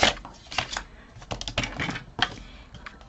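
Quick trim of Kaisercraft Frost 12x12 paper pack sheets for a mini album, with a series of sharp, close clicking and snipping cuts in irregular bursts and no talk.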